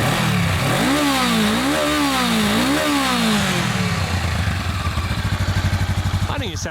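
A 2017 Honda Rebel 500's parallel twin engine revs up and down three times in quick swells, then settles back into a rapid, even idle close by.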